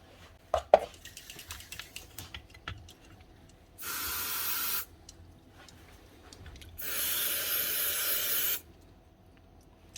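Two bursts of spray hiss as a wash is forced into a Milwaukee power tool during repair, each lasting about a second or two, loud and close, with faint handling clicks and knocks between them.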